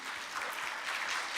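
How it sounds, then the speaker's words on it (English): Audience applause for a presenter at a university postgraduate research day, a steady wash of clapping throughout, moderately loud with no voices over it. "Can give him a round of applause"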